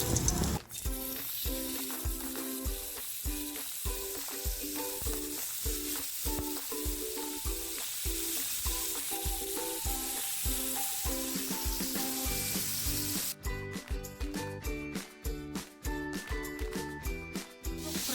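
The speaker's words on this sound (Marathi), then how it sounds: "तपत तेल टाकते कारण मच्छी फ्राय करून घेते" Fish frying in hot oil on a tawa gives a continuous, close sizzle, with a steady rhythmic beat and sustained tones running through it from start to finish, and no talking.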